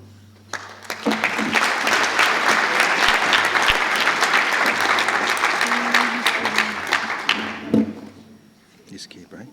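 An audience bursts into sustained applause at the Drawing of the Year 2017 award ceremony, dense clapping swelling in, holding steady for several seconds, then tapering off, with a voice heard near the end.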